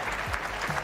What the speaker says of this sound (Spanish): Un aplauso para Mireia, maldita sea